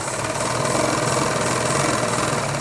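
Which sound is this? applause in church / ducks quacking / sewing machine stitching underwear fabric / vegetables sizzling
sewing machine stitching underwear fabric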